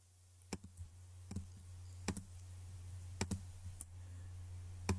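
Computer mouse clicks and control-clicks while working in FreeCAD, heard as about a dozen faint, crisp clicks in small irregular groups over a low steady hum.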